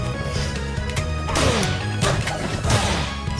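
Heavy smash attacks land in a Rivals of Aether 2 match, several sharp crashing impacts with whooshing effects over busy game music, loud and close.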